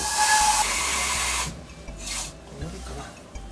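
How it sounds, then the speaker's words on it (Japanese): Water gushes into a pot for miso soup with a steady hissing rush for about a second and a half, then cuts off, leaving faint clinks and quiet. "鍋にお水入れるよ。"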